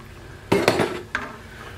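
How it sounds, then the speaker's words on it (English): A spoon stirring diced tomatoes in a pot makes two or three brief metallic clanks and scrapes against the pot, close and fairly loud, with quiet between them. "Just going to stir this up a little bit."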